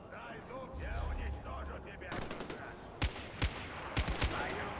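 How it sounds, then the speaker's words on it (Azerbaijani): Gunfire in the video game Far Cry 4, several sharp shots in quick succession in the second half, following a stretch of game sound, with someone talking over it. "Bunun başından, aha başından vurdum."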